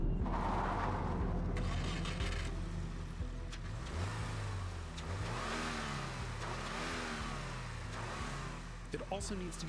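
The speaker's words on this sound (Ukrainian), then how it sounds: "повнопривідні автомобілі з механічною коробкою передач потребують повної розкрутки до червоної зони та різкого відпускання щеплення" A manual all-wheel-drive car revs hard toward redline and then drops the clutch for a launch, engine rising and falling in repeated sweeps, loud and close, with someone talking over it.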